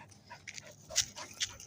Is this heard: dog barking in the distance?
yes